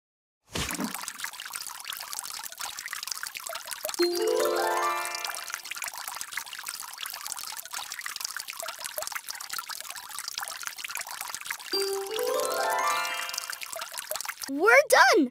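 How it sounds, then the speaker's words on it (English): Water pouring from a watering can onto plants in a Daniel Tiger's Neighborhood children's game: two short rising trickling, pouring cartoon effects separated by quiet, then a bright chime at the close. "Today I'm watering the plants."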